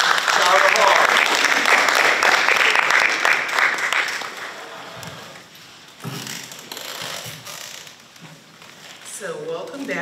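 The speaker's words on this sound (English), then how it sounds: "Let's give her a hand of applause" An audience at a prison awareness and prevention gathering applauds loudly for the moderator; the clapping fades after about four seconds and a voice speaks over the room.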